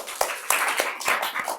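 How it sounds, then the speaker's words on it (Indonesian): Audience clapping during an Indonesian teacher-training session, a short burst of scattered hand claps with a few sharp individual claps standing out, fairly near and lasting under two seconds with no talk over it. "Beri tepuk tangan."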